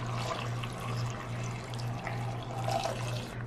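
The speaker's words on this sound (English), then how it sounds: "the last ingredient that we need right now is 3 cups of water." Three cups of water poured steadily into an Instant Pot, a continuous splashing, running stream at close range with a low hum underneath and no talking.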